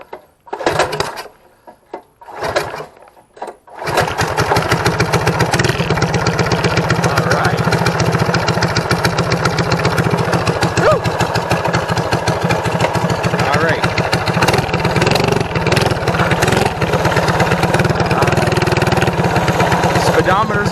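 A built stage 2 Predator 212 mini bike engine is cold started with the choke on, a few sputtering bursts, then catching and running steadily, loud and close, with brief talk over it.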